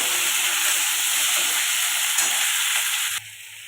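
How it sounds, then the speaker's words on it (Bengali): Onion greens and tomato stir-fried in a pan for a spicy fish dish, giving a loud, steady hissing sizzle close by that suddenly drops to a quieter hiss near the end; no talking. "পেঁয়াজ কলি টমেটো এটা ভালো করে কষাতে থাকবে"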